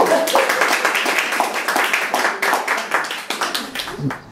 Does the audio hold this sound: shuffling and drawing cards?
no